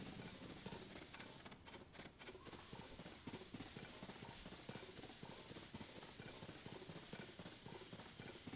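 Horse hooves clip-clopping in Zelda: Tears of the Kingdom, a steady, busy rhythm of hoofbeats running continuously under a dense wash of game sound, fairly loud and close throughout.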